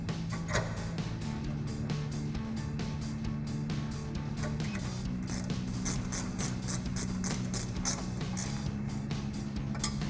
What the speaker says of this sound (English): We're gonna grab our 15mm ratcheting wrench and tighten that down.